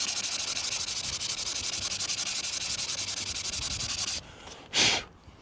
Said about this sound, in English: I am removing all these with some sandpaper